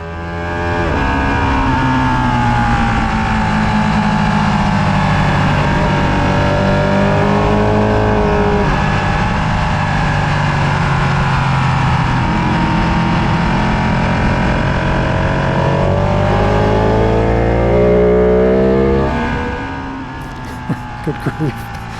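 A Ducati 1299 superbike screams along a racetrack at Palmer Motorsports Park, its engine loud and sustained with rising and falling pitch through auto-blipped downshifts, close up and constant, easing off near the end.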